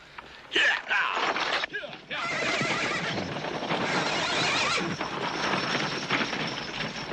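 A horse whinnies loudly near the start, followed by a rough, continuous rumble of hooves and movement that keeps going at a steady level.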